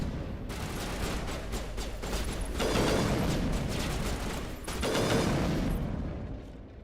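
Dense, rapid automatic gunfire from a shooter video game, loud and close, with sustained bursts that swell twice before tapering off.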